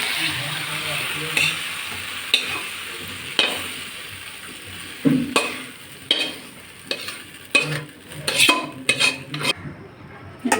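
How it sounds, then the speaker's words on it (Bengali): Okra frying in a pan, a steady sizzle broken by repeated scrapes and clinks of a utensil stirring against the metal, close and fairly loud with no talking. "আমি ভেন্ডিগুলো এমন করে ভেজে নিয়েছি এখন আমি ভেন্ডিগুলো নামিয়ে নিচ্ছি"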